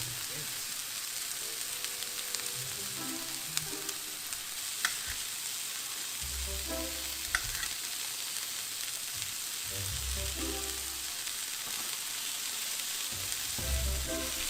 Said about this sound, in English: So we're gonna stir it on up and shake it around and get all them flavors mingling and mangling in there